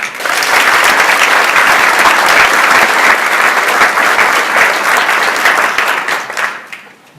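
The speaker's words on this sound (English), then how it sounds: "Let's give another round of applause to the Waterville High School Jazz Band" Sustained applause from a seated crowd at a mayoral city council and board inauguration, honoring the Waterville High School Jazz Band ensemble; dense, steady clapping holds loud for about six seconds, then thins and fades out at the end.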